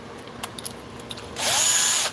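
A power drill runs during launch pad model assembly: a few small knocks and taps, then one loud, steady whirring burst of just under a second close to the listener, stopping abruptly.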